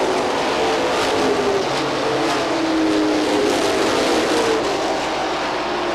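Pro stock race cars roar around Seekonk Speedway in a dense, continuous engine drone, several cars blending together at a steady loud level with slight rising and falling pitch as they pass.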